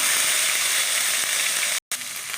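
Ginger garlic paste fries in hot oil with a dense, steady sizzle, close and continuous, broken by one brief silent gap.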